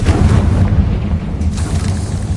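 A loud, booming explosion blast from the Confringo fire spell in Hogwarts Legacy lands close and heavy, then a rumbling roar trails off over a couple of seconds.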